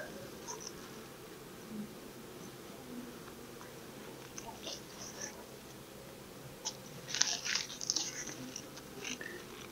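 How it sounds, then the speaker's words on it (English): Honey bees at an open hive during an inspection of capped brood give a faint, steady buzzing hum with one bee flying close and louder for a few seconds, while a person is handling the frames nearby. "Well, I sure got one of them excited, buzzing around me, though."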